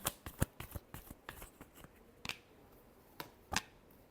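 A deck of tarot cards is riffled and tapped during a final shuffle, giving a quick run of crisp flicks that thins into sparse snaps and a last sharp clack, quiet and close with no voice.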